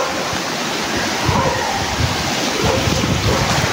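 A river rushes in a continuous broadband wash close to the microphone, steady and loud with some wind buffeting.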